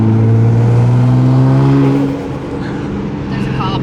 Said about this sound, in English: I think we need some good boost noises.